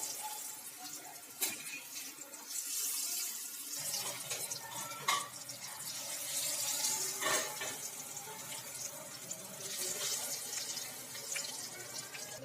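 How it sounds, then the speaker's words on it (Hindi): Fish pieces dropped one by one into hot oil over low heat, giving a soft continuous sizzle with faint crackles and a few light clinks, heard close and quiet with no talking. "तो इसमें हम अपनी मछलियों को इस तरह से एक एक करके डाल देंगे और आंच को अपनी हल्की रखेंगे"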